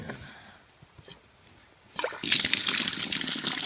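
A faint trickle gives way to a loud, steady rush of water pouring into a horse waterer, close by.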